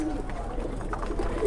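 Pigeons coo softly and repeatedly in a shop or market where pigeon supplies are being bought, with steady background chatter and bustle.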